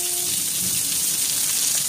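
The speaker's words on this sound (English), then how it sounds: "raining. It's raining" Rain falling outside makes a steady, dense hiss that continues without a break, close and fairly loud, with no voices.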